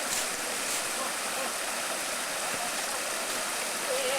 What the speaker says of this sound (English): So we cross this creek one last time.